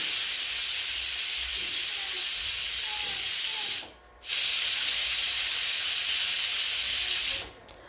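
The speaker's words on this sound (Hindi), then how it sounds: "कुकर का लिड करिए बंद और मीडियम फ्लेम पे 2 विसिल आने तक हमें इसे कुक करना है।" A pressure cooker of dal pitthi on a medium flame lets out steam in a loud, steady, continuous hiss that cuts out briefly twice, at about the halfway point and again near the end.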